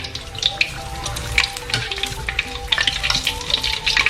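Sesame-coated pork toast frying in hot oil, a dense steady sizzle with bright crackling pops throughout, close and fairly loud, with no talk over it.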